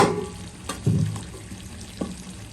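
Ginger paste fries in a hot pan while being stirred for chicken and vegetable bhaja, giving a soft sizzle broken by a few louder scraping stirs, close by and without talk.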